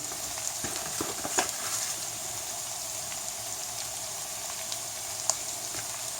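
Potatoes, sausage, bacon and vegetables seasoned with marjoram fry in a pan with a steady, soft sizzle and a few faint stirring clicks, heard alone at moderate distance.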